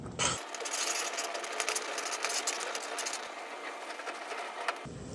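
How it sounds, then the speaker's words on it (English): Stirring Jamaican turn cornmeal in a pot over a low flame, a continuous scraping, rasping rub heard up close, steady and unbroken for several seconds. "just keep stirring the cornmeal"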